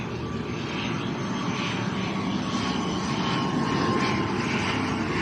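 A Binter ATR turboprop at Lanzarote's Arrecife airport drones steadily and loudly, a continuous propeller-engine roar with a faint tonal hum, building slightly toward the end and holding without any talk.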